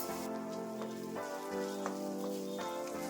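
Onions frying in coconut oil with cumin make a steady, close sizzle with faint crackling, continuous and even, with no talking.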